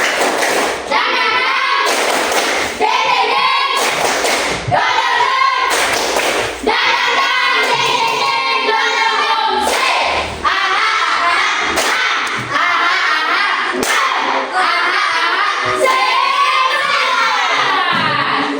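A classroom of children performing the rhythmic 'tepuk semangat' clapping chant, loud bursts of claps and thumps in a patterned beat mixed with children's chanting voices throughout.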